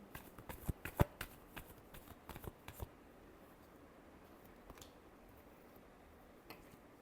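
Tarot cards shuffled for a Virgo reading, a quick burst of crisp riffling taps and flicks in the first few seconds, then near silence with a faint click.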